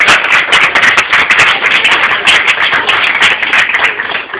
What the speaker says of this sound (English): You guys should give yourselves a big round of applause